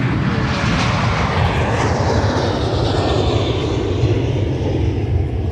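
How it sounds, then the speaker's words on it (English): Boeing 757 jet airliner at Minneapolis–Saint Paul airport, a loud, close, continuous engine roar holding steady throughout. "Boeing 757 at the tail, push to runway 30 left."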